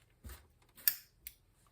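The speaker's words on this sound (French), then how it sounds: "tes ficelles, tu peux les couper aussi" Scissors snipping the strings of a handmade sage smudge stick, three short quiet crisp cuts spaced apart at close range, the middle snip sharpest.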